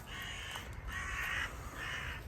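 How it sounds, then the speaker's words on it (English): Crows cawing outdoors, a few harsh calls in separate bursts, fairly close and loud against a steady background. "Wish these birds to shut up"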